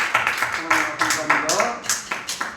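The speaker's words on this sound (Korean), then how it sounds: "우리 주님 앞에 영광의 박수 드리겠습니다" A church congregation claps in a steady rhythmic beat at the close of an evening worship service. Voices carry along underneath the brisk, moderately loud claps.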